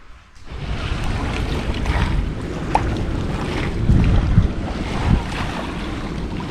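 Steady wind and surf at a seaside spot near Yeongheung Island in Ongjin County, Incheon, with continuous broadband wind noise buffeting the microphone and waves washing in, no voices.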